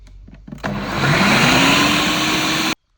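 An electric mixer or blender whirs up as butter is mixed into cake batter, its motor pitch rising and then holding steady for about two seconds before cutting off abruptly, loud and close with no talking.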